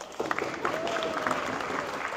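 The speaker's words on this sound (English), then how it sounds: "Clap it up again for them." Audience at a student empowerment keynote claps for graduating students, a dense steady wash of applause lasting a couple of seconds with a voice speaking over it.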